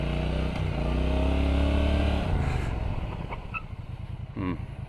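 A Brixton Cromwell 1200 X motorcycle on a test ride, its engine humming steadily and swelling as it pulls along, with wind and road noise around it and the sound easing off toward the end.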